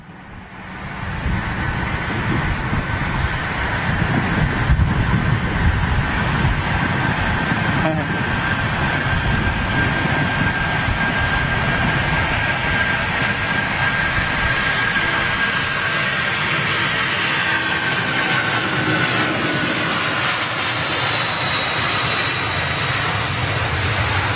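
Heavy jet airliner departing London Heathrow, a loud sustained engine roar that builds quickly and holds steady throughout, with a faint high whine running through it.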